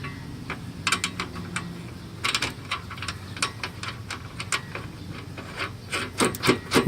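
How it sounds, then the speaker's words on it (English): A bolt is finger-tightened while fitting a trailer hitch to a 2013-2017 Mitsubishi Mirage, making close, repeated light scraping and ticking as the threads turn, with no voices. "Finger tightening it on."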